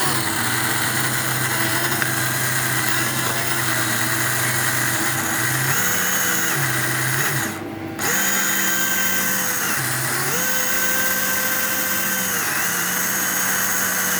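A small slot car motor whirs continuously in a run-in machine, a loud, steady high-pitched drone that shifts pitch and speed several times and briefly cuts out around the middle.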